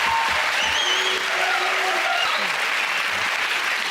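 Studio audience at a comedy panel show applauding, a dense continuous wash of clapping throughout, with faint voices underneath.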